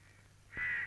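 A single crow caws once, a short harsh call that rises late out of a quiet background, fairly faint and alone with no talking.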